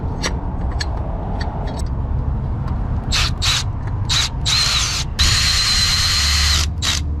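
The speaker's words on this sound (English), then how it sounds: "trusty Milwaukee power drill to make things easier" Milwaukee power drill fitting TRD wheel caps onto a 2022 Toyota Tundra: a loud, close whirring drill in several short bursts, then one longer sustained run and a final quick burst, over outdoor rumble, with no talking.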